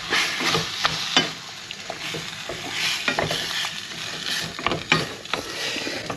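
Sauce is poured into a pan and left to simmer on low heat, giving a continuous sizzle with scattered stirring clinks and scrapes close by, with no talk.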